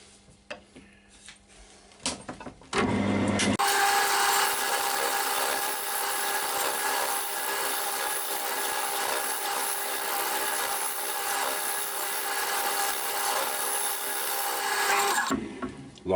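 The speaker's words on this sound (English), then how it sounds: "Carry on doing what I was doing with your little spindle gouge." A spindle gouge cuts a wooden bud vase spinning on a lathe, a steady loud scraping hiss held for about twelve seconds after a few brief starting knocks, then stopping abruptly.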